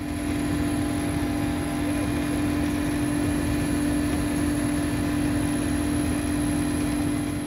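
A Russian Emergencies Ministry Mi-8 helicopter engine drones steadily with a low rotor throb and a constant whine, loud and close throughout, with no voices.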